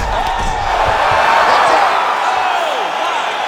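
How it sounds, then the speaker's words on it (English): A crowd roars and cheers at an EA Sports UFC 5 bout between Kai Asakura and Kyoji Horiguchi, a loud, sustained wash of arena noise with whoops rising and falling throughout. "crowd loving it"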